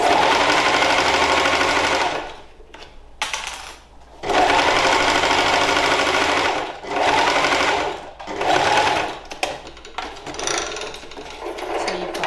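A sewing machine with rollers stitches a seam in oilcloth for a tote bag, running in loud, continuous bursts that stop briefly between passes, with a mechanical whirring and rattling texture.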